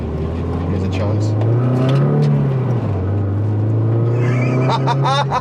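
A BMW E36 3 Series in poor condition accelerates with a steady, droning engine note that rises and dips slightly, heard from inside the car as a loud continuous rumble.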